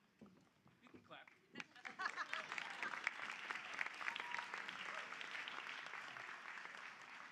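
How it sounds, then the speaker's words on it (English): Commencement crowd at West Chester University breaking into applause, starting sparse with a few claps and swelling into broad sustained clapping from a large audience that continues evenly to the end. "You can clap."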